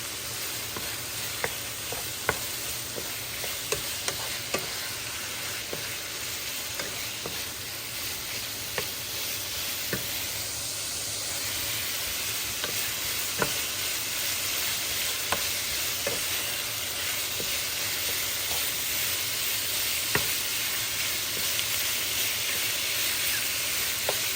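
Chicken for a burrito fries in a pan with a loud, continuous sizzle and hiss, broken by frequent small clicks and scrapes as it is stirred, close and steady throughout with no talking.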